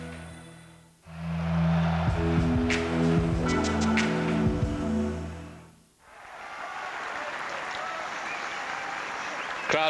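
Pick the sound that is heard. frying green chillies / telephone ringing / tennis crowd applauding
tennis crowd applauding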